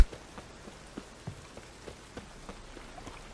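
Steady rain in The Witcher 3: Wild Hunt video game pattering on a surface, with scattered drops tapping irregularly over a soft, continuous hiss; no voices.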